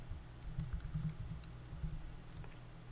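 Steady typing on a computer keyboard while writing web page text, a soft continuous patter of keystrokes, close but quiet over a low background rumble.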